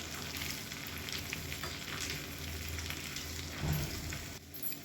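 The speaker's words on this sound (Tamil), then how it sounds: "இது எல்லாமே நல்லா பொன்னிறமாக பொரியட்டும்" Tempering spices fry in a pan for ven pongal with a dense, constant crackling sizzle up close and a brief stirring scrape near the end.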